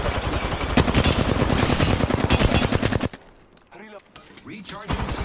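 Rapid automatic gunfire in the shooter game Apex Legends, loud and dense bursts for about three seconds, then a drop to quieter game sounds and voice callouts before firing resumes.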